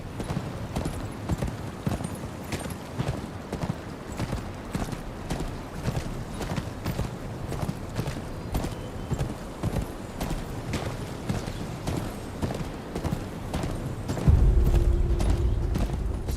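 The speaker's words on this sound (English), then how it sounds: "Where's your horse? Mount up and let's go." Steady, rhythmic horse hoofbeats clip-clop at a walking pace throughout in the Game of Thrones PC video game, close by, with a low rumble swelling near the end.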